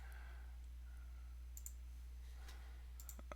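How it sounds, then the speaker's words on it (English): A computer mouse gives a few sharp, quiet clicks, single and in quick pairs, over a low steady hum with no voices. "Oops, I keep clicking the pictures here."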